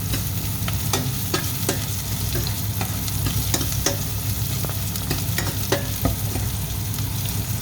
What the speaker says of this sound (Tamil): உப்பு போட்டுட்டு கொஞ்சம் வதக்கி விட்டோம்னா டக்குன்னு வதங்கிடும்